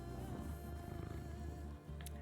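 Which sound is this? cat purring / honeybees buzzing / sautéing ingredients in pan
cat purring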